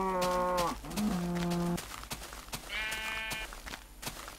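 Cows moo in Minecraft, two long loud lowing calls followed by a higher bleating animal cry, over scattered clicks and game footsteps, with no speech.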